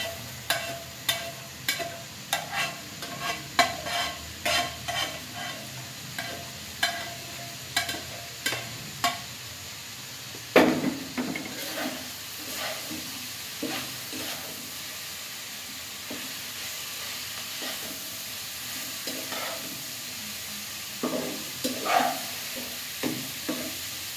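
Pumpkin leaves stir-fry in a pan for a Bangladeshi dish, with regular scraping stir strokes over a constant sizzle. There is a louder clatter midway, then a quieter stretch before the stirring picks up again.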